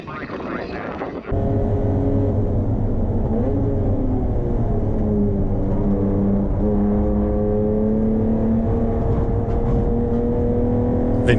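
A production race car's engine drones steadily at high revs around the Hampton Downs circuit during Improved Production Car racing, with rising and falling harmonic tones as gears change; a brief noisy burst opens before the constant engine note takes over.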